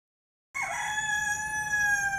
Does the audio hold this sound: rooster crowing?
yes